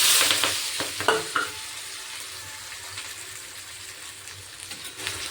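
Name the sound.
chopped vegetables frying in hot oil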